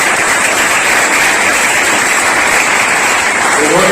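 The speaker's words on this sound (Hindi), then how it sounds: "तो एक बार जोरदार तालियां।" An audience at a state-level kickboxing competition claps loudly and continuously, a dense wash of many hands close to the listener, sustained without a break.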